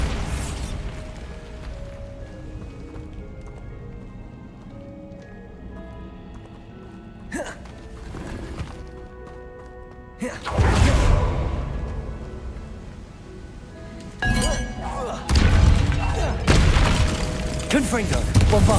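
Explosions from the Bombarda spell in Hogwarts Legacy sound as a few heavy booms with rumbling bursts over a bed of game music and effects, loud and close, separated by quieter stretches.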